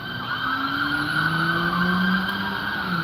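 A car pulling out and driving off on a South Florida street: a sustained engine and tire whine with rising and sliding tonal pitches, steady and fairly loud throughout, with no talk.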